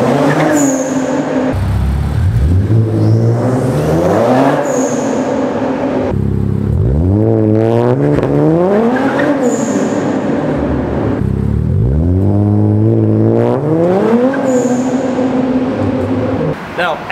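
Infiniti Q60 with an aluminum driveshaft revving hard through repeated launches, engine pitch sweeping up and falling away three times with rough, stuttering wheel hop, loud and close, over steady background noise.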